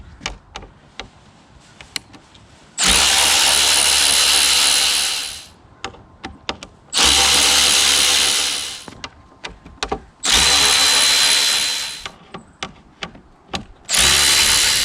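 Power driver backing four factory Allen bolts out of a Yamaha Tenere 700 headlight area, three loud sustained whirring bursts of a few seconds each, separated by clicks and handling noises.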